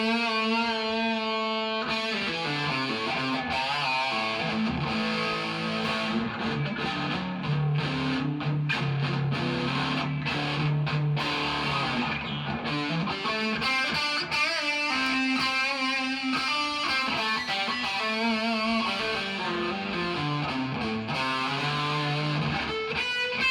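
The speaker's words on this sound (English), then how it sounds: "Let's crank that reverb all the way up." Distorted electric guitar played through a Crate G60 amp with its reverb turned fully up, loud sustained chords and riffs with a long washy tail, no talking.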